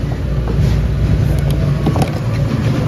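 Hot Wheels toy cars racing on a track, with a steady close whirring rumble and small rattling clicks throughout, with no voices.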